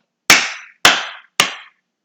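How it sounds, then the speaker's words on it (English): Three soft, evenly spaced single hand claps from a teacher, Miss Gleason, each a short sharp slap with a brief decay, close and alone in a quiet room. "they heard Miss Gleason clap softly"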